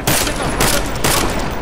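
Dense gunfire hits the player in the video game Deus Ex Mankind Divided, a loud, sustained fusillade of overlapping shots with sharper bursts through the middle and end, under faint voice.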